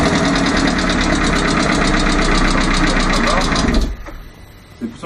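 A rebuilt Peugeot 206 engine runs loud, rough and unevenly with a rhythmic knocking from a hydraulic lifter, then cuts out abruptly, leaving faint background sounds.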